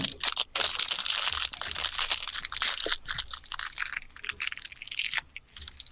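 Close crunching and nibbling on an ice cream bar, a dense run of crisp, crackly bites with short pauses, steady and near, no talking.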